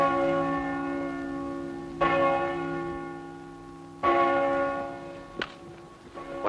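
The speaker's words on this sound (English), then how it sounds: "It's an old Roman bell brought to Britain by the Emperor Claudius. It rings all the canonical hours." An old Roman church bell rings the canonical hour of Nones with three loud, resonant strikes about two seconds apart, each followed by a long humming decay, plus a fainter knock near the end.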